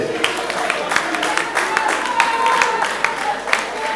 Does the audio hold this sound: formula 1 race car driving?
no